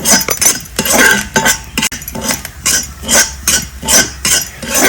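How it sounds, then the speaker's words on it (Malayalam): Grated mature coconut is stirred in ghee in a pan, with rhythmic, close scraping and clinking of a metal spoon against the pan in repeated strokes, loud and continuous. "കൈ വിടാതെ ഇങ്ങനെ ഇളക്കണം"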